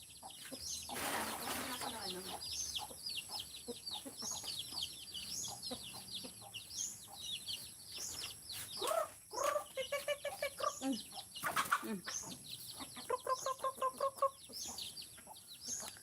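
Free-ranging chickens on a rural plot cluck and chatter nearby, with repeated rhythmic clucking runs, a few louder squawks and a brief flutter, heard over quiet outdoor background.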